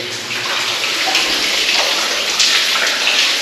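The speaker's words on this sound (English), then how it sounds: "Another bit of water coming through a coal seam here." Water runs steadily through a coal seam deep in an underground mine, a continuous close splashing trickle and gush with no talk over it.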